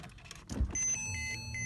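A 2009 Porsche 911 Carrera is started with its key: a short cranking burst, then the engine catches and settles into a steady close idle, with a faint high electronic tone running alongside.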